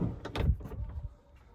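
Door of a 2013 Renault Trafic long-wheelbase passenger van with a 2.0 115 hp engine shuts with a dull, muffled thud and a brief rattle, close by, then quiet.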